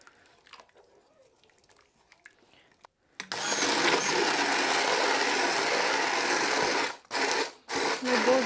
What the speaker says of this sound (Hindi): इसको मैं ज़रा सा हैंड ब्लेंडर के साथ वो करती हूँ